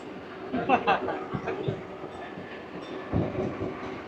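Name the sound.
Katwa–Barddhaman local train at Nigon railway station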